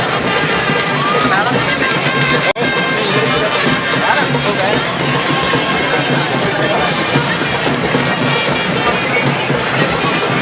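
A large crowd cheers and roars at a school cricket match in Sri Lanka's hill country, giving a dense, continuous wall of voices that stays loud throughout with one brief break.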